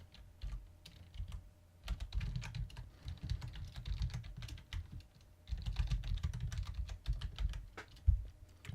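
Steady typing on a computer keyboard, close and continuous with rapid key clatter in two long bursts separated by a brief pause, no voices.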